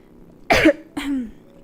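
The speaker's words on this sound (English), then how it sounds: "more coughing" Two close, sharp coughs from one person, the second trailing into a throaty rasp, with quiet room noise between.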